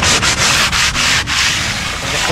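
Sandpaper rubbing back and forth over a surface in quick, loud strokes with brief pauses between passes, close up and alone.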